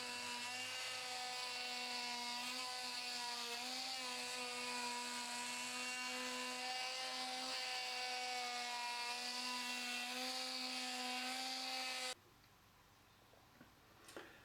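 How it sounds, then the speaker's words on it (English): A cordless sander buzzes steadily and loudly as it sands wood filler off a wooden monkey bar frame, a continuous whine with slight pitch wobble for about twelve seconds before cutting off to quiet. "I'm sanding off the remainder using a cordless sander."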